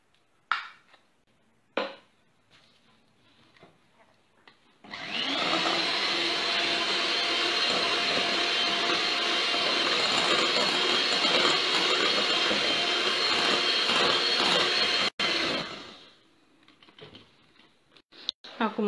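An electric hand mixer beats softened room-temperature butter for a moist lemon loaf cake, a loud steady whirring drone running about ten seconds after quiet kitchen clatter, then cutting off.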